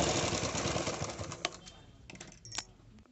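A sewing machine stitches a collar for a uniform in a rapid whirring run that fades into a few scattered clicks and taps as it slows.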